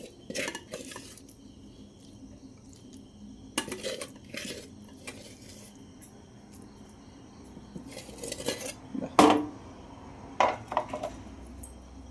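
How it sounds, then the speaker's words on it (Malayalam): Egg roast being spooned from a cooking pan into a serving dish, with irregular metallic scrapes and clinks of spoon against cookware, several sharp knocks and one louder clatter near the middle, over quiet background. "ഇനി നമുക്കിത് വാങ്ങിയെടുത്തിട്ട് നമുക്കൊരു പാത്രത്തിലേക്ക് മാറ്റാം"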